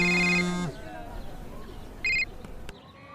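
A telephone rings with a bright electronic tone, one burst at the start and a shorter second burst after a pause, amid quiet background.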